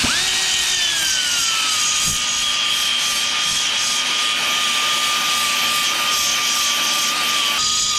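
A power tool stripping paint from the frame of a 1997 Suzuki RM250 motorcycle gives a loud, steady high-pitched whine that runs unbroken for the whole stretch, up close with no talking.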